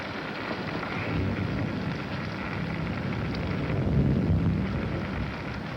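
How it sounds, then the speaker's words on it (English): Rain falling at night in a 1941 film scene, a steady broadband wash of noise with no voices. "It's raining."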